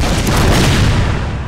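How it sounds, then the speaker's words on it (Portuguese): Heavy cannon shot in the video game Napoleon: Total War, a loud booming blast with a deep low rumble that decays over about a second and a half, no talking. "Nossa, olha esse tiro de canhão, que bonito."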